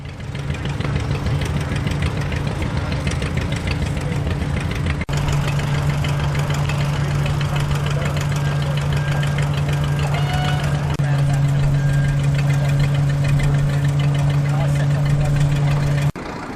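A 1930 Hart-Parr 12-24 tractor engine idles steadily with a deep, even drone and a faint mechanical knock, running continuously and close by.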